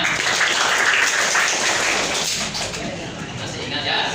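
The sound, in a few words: classroom students applauding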